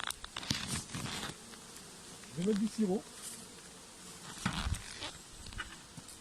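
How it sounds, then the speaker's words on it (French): Wasps buzz around a syrup feeder at a beehive. The buzzing is faint and comes and goes, with rustling and handling noises, while a person speaks briefly. "Il y a déjà des guêpes qui viennent."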